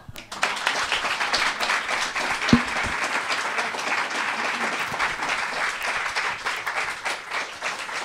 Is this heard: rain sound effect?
no